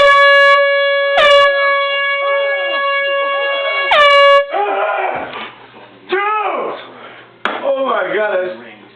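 Loud air horn blasts in a wake-up prank: a long blast at the start, a short sharp one, then another long piercing blast, followed by startled shouting and commotion close to the mic.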